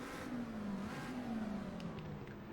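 Street-car engine in a sim racing game, played on a Fanatec wheel, revving in neutral: a faint, steady mechanical drone whose pitch climbs and dips as the revs rise and fall, alone without talk.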